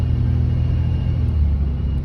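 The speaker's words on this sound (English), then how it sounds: "We're going for a little ride. We're gonna go up to the street, turn around, and come back. There's second gear." A 1997 Camaro pulled from the crusher drives in second gear, a loud steady low engine rumble heard from inside the car, with no talk.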